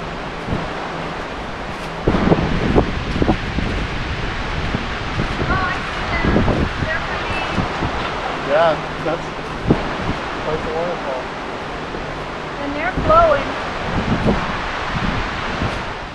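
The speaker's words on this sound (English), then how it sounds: "There they are, Caney Creek Falls." Caney Creek Falls in Bankhead National Forest sends a constant broadband roar of falling water, mixed with gusty wind buffeting, and people talk intermittently over it.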